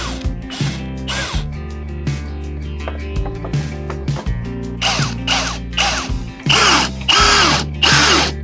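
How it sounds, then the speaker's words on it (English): Power drill driving into a wall to mount 3D printer filament storage racks, loud close whirring bursts that start and stop repeatedly, with a rising rattling grind in the last couple of seconds. "So nothing left to do but start with the drill."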